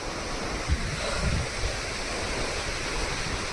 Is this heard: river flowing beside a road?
yes